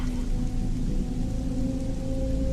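Steady rain falls as an evening sound effect in an audio drama, a dense even hiss with a faint hum beneath, continuous and close.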